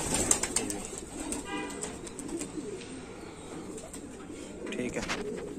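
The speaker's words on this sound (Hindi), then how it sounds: "अच्छे कबूतर है सारे के सारे" Pigeons of Punjabi or Madrasi breeds kept for sale give soft cooing amid a dense bed of chirps and rustling, faint and continuous, with little talk over it.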